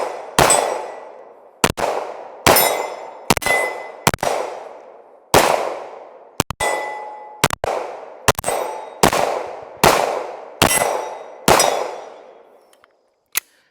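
A beginner-oriented competition handgun is fired in sharp, loud single shots, about a dozen at an uneven measured pace, each crack followed by a ringing metallic tail, close up with no talk.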